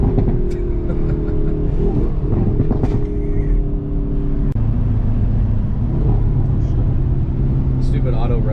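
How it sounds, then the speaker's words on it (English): Stock 2021 Hyundai Veloster N engine droning loud and steady with a deep exhaust note, a brief pop and a drop in revs midway, then a lower rumbling tone, with talking over it. "This car is so loud"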